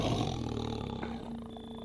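A lion roars loudly in the Minecraft video game, a sustained, growling roar that fills the whole short moment without any talk.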